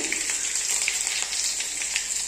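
Mustard seeds, green chillies and curry leaves fry in hot oil on a lowered flame, giving a close, continuous sizzle peppered with small pops and crackles, with no voices.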